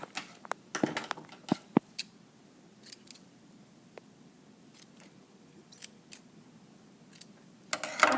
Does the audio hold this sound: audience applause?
no